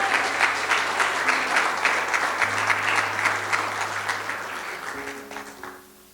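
A church congregation gives a loud round of applause, many hands clapping in a thick, even roar that holds steady for several seconds and then tapers off, with a faint low hum underneath.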